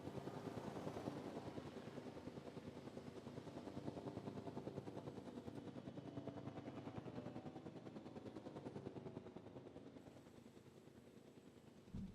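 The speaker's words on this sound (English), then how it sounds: "God, these choppers take so long to do anything." Helicopters in the Jurassic World Evolution 2 video game, a steady low rotor drone with a fast chopping flutter running throughout, fairly quiet and continuous, tailing off slightly toward the end.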